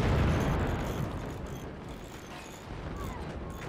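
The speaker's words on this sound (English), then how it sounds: "That was a lot of missiles." Rumbling booms and dense blasts from missiles striking in the Forts strategy game, a loud continuous barrage that eases slightly midway then swells again.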